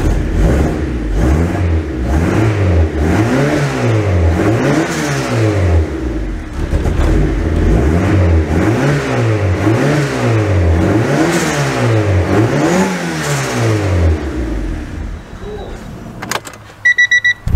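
A Honda Prelude engine just after starting, revving repeatedly in a steady rise-and-fall rhythm, loud and close, before settling and cutting off with some clicks near the end.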